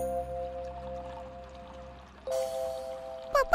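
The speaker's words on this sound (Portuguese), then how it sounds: "O som da água caindo no copo é fraco." Water trickles faintly into a glass in a kitchen as a soft, steady stream under a constant background hum, with a brief brighter sound near the end.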